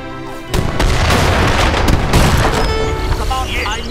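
Artillery and mortar fire in the video game Age of Empires III, a dense run of booming cannon shots and blasts layered over battle noise, loud and continuous after a quieter opening.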